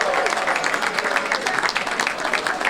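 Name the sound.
audience applause at a carnival event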